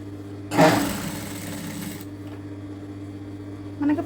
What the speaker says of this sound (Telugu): ఇలా పైపింగ్ పక్కనే స్టిచ్చింగ్ పడేలాగా